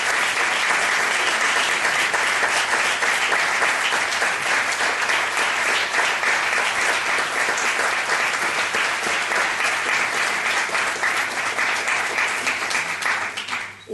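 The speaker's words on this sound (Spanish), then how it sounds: "yo pediría un aplauso para él" Sustained, loud applause from an audience at a homage event for euthanasia rights campaigners, honouring Luis Montes. It stays even and continuous throughout, fading slightly at the very end.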